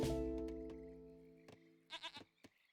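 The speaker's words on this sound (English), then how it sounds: "9 goats being picked up on this map" Goats in a strategy video game bleat in a few short, wavering calls after a fading tone, with clicks between them, fairly faint and without talk.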